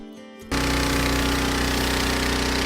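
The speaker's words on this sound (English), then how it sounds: "I'm going to use a pressure washer with a rotary surface cleaner" A pressure washer with a rotary surface cleaner starts abruptly on concrete outdoors and then holds a loud, steady, rattling roar up close with no talking.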